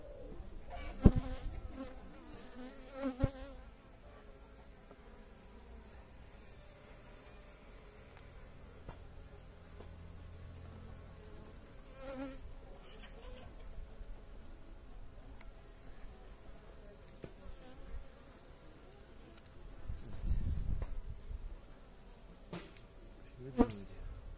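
Honeybees hum quietly at an opened hive in early spring, a faint steady buzz that rises and falls as bees fly near, with occasional soft knocks and a brief louder buzz close by.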